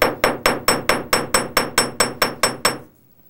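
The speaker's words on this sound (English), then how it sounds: "So I'm just going to hammer a little bit here at the top of the loop." A small hammer strikes the top loop of a metal S-hook jewelry clasp about a dozen times in an even, quick rhythm, each tap crisp and ringing, then stops.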